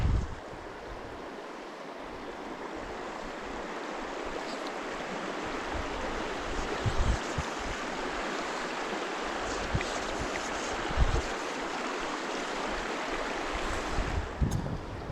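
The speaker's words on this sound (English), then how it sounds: "we're back casting into a massive headwind" Strong headwind blowing by a river while fly fishing, a continuous loud rushing noise with gusty buffeting on the microphone and no talk.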